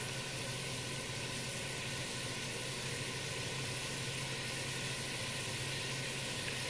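Pork stew ingredients sizzle steadily in a pot, a constant, fairly quiet frying hiss with no pauses and no talking.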